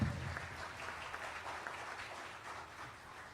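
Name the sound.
applause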